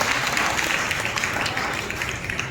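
A church congregation claps together during a Telugu Christmas sermon, a dense, steady patter of many hands filling the room for a couple of seconds, fading slightly toward the end.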